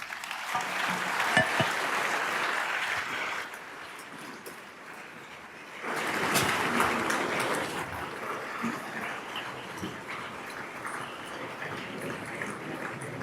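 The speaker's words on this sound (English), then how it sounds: "Please, a hand of applause." Crowd applauds Vice President Kamala Harris at a conference, moderate clapping that fades briefly, surges again, then trails off into softer scattered claps.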